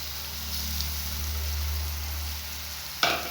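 Semolina is stirred in a pan for a banana balls recipe with a soft, steady low sizzle and faint scraping, then a sharper clink of a utensil near the end.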